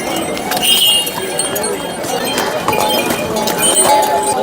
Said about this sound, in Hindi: घोड़े वोड़े आने लग रहे हैं भाई